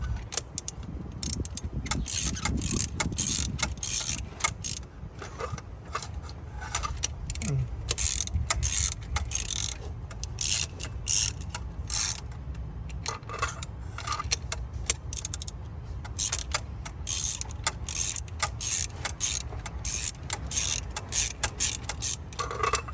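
A ratchet with a magnetic socket clicks rapidly and steadily while removing a spark plug from a BMW 135i with the N55 engine, close and continuous with metallic jingling throughout.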